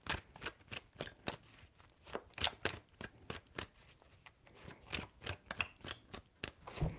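Tarot cards being shuffled by hand: a quiet, steady series of crisp riffling and slapping strokes repeating in an even rhythm, with no talking.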